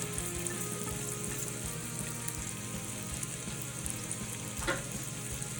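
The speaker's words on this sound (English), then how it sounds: "So go ahead and lay your shrimpies in a piping hot pan." Steady, dense sizzling of shrimp frying in a piping hot pan, continuous and fairly loud with a faint clink partway through.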